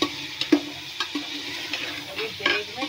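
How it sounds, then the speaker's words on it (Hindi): Ginger garlic paste fries in a pan while being stirred, with soft sizzling under a few sharp scrapes and clinks of a spoon against the pan at an irregular pace, fairly quiet and close. "अब हम इसको इसमें डालकर अच्छे से भून लेंगे।"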